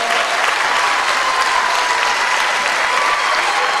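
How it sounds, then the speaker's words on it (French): A crowd at an award ceremony claps for a winner, dense sustained applause that stays loud and even from start to finish. "Applaudissez-la s'il vous plaît."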